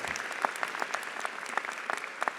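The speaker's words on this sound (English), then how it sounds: "Let's give a round of applause again for" Scattered clapping from a small crowd at a university graduation ceremony, fairly faint and sparse, individual claps audible throughout.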